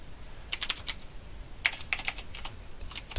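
Keys clatter on a computer keyboard in short bursts of typing, close and crisp, with brief pauses between clusters of strokes and no talking.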